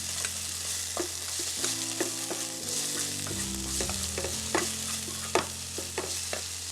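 Onions, Scotch bonnet pepper and scallion sizzle steadily in a hot pan for stewed eggplant, with a constant frying hiss, a low hum and a few sharp stirring clicks, and no voices.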